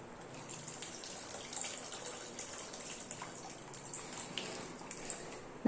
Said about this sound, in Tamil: இப்போ நான் புளி தண்ணி வச்சுருக்கேன் அதையும் ஊற்றிக்க